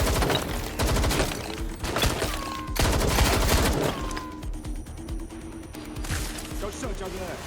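Gunfire fills a Watch Dogs: Legion firefight, with dense, loud volleys of rapid shots, shouted voices over the top, and a short lull before more shots.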